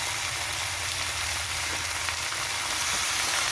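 Ground cumin and spice paste sizzle in a hot pan for a fish curry, making a steady loud hiss with a faint low crackle beneath, unbroken and close, without speech.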